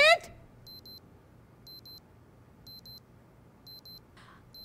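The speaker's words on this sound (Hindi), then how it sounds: "अलार्म बंद करो।" Alarm clock beeping in repeated short double bursts at an even pace, faint against a quiet room, after a brief sharp sound at the start.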